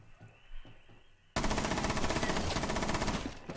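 Rapid automatic gunfire from Rainbow Six Siege breaks out suddenly after a quiet moment, a loud, sustained burst of rattling shots that continues without pause to the end.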